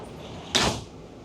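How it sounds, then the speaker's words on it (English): A door shuts on a Catana 50 catamaran, one short soft thud of sliding or swinging panels against a steady background hum of the boat's interior. "Let's close it all up. And bang, we're back to closed doors"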